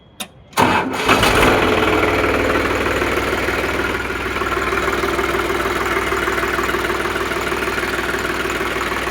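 A 2015 New Holland 3600-2 tractor engine cranks by battery self-start, catches after a brief churn and settles into a loud, steady diesel idle that runs on evenly to the end.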